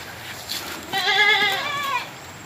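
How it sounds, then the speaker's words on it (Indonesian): A single goat bleats in the background, a wavering, quavering call of about a second over a faint outdoor hush, with no one talking. "Ini suara kambing di belakang."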